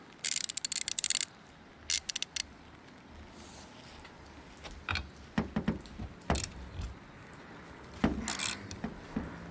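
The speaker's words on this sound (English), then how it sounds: "To unscrew these nuts I used socket number 14." A size 14 socket wrench loosens nuts on a Toyota Prius, giving quick bursts of close ratchet clicking followed by scattered metallic taps and clinks at low volume.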